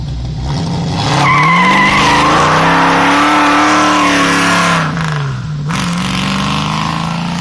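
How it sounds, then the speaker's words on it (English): A 1968 Ford Mustang GT muscle car engine revs up loud and raucous, its pitch rising and holding for a few seconds before dropping and settling, with a brief tire squeal mixed in and no talking. "It's more of a raucous, old school 70s, 60s, 70s muscle car sound."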